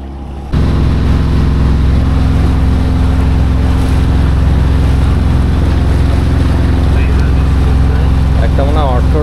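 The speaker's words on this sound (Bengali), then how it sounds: "অনেক ধরনের বোট আসতেছে তো এখানে" Boats passing on the water near Kotor, Montenegro, a loud continuous motor drone with wind and water wash, and voices talking in the background.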